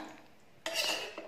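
Cooked rice is served from a pot into a dish: after a quiet start comes one close, brief metallic scrape and clatter of a serving spoon against cookware, with a second small knock.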